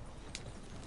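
Horse hooves in Red Dead Redemption 2 clop in a brief, faint, steady run over low background noise.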